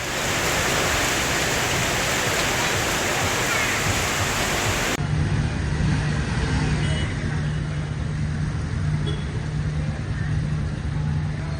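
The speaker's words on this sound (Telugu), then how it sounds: "గచ్చిబౌలి, లింగంపల్లి, హైటెక్ సిటీ, మియాపూర్, చందానగర్, ముషీరాబాద్ ప్రాంతాల్లో భారీగా వర్షం కురిసింది" Heavy rain pouring over city streets in Hyderabad with traffic, a dense steady roar that drops to a lower rushing wash halfway through, loud and continuous.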